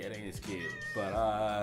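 A cat meows close by, a drawn-out wavering cry that overlaps with someone speaking at the same time.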